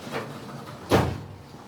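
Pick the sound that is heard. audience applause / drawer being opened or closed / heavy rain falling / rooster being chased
drawer being opened or closed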